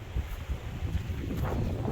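Strong wind blows at Cavtat, Croatia, buffeting the microphone with a steady low roar and gusting rumbles, with no voices.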